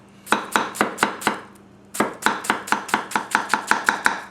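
Onions chopped on a board with a Masakage Yuki 270 gyuto knife: crisp, evenly paced knife strikes in two runs separated by a short pause, close and loud with no talking.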